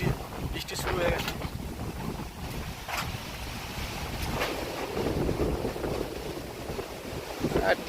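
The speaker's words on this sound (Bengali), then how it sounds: "বাতাস দেখো, প্রথমে বাতাস ছিল উত্তর দিক থেকে, কিন্তু এখন বাতাসটা হচ্ছে পশ্চিম দিক থেকে।" Strong gusting wind during Cyclone Remal buffets the microphone in a steady, loud roar with occasional harder bursts.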